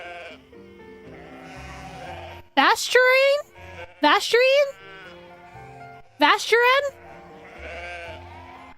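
Sheep in the video game Love and Deepspace bleat three times in loud, wavering cries over soft background music, while a voice speaks briefly between the bleats.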